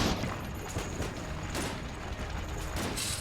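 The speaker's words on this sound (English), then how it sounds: "I fired off my cannon there because it leaves spores around the room." A cannon fires in the video game Enter the Gungeon, giving several sharp blasts spread through a dense, busy mix of game effects.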